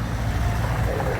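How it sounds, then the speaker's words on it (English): Cars pass outside a hostel, blending into a steady low traffic rumble that fills the short stretch without any talking. "I hear all these cars."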